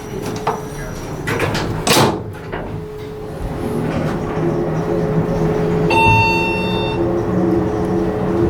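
Montgomery hydraulic elevator at Pigott Hall, Stanford University, its door closing with a sharp thump and rumbling slide amid a steady machine hum, a chime-like tone sounding near the end.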